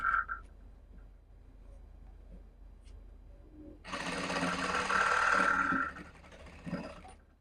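An electric sewing machine stitches a salwar in a steady, whirring run of several seconds, following a quieter pause with faint handling noises.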